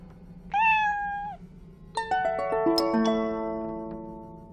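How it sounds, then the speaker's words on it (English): A cartoonish cat in the game I Spy: Mystery gives a single clear meow, followed shortly by a bright descending run of musical chime tones that ring out and fade. "One cat."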